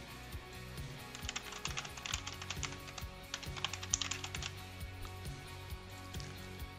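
Typing on a computer keyboard, a run of light, quick key clicks that is close and moderately quiet over a low steady background hum, with no speech.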